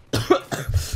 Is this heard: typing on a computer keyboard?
no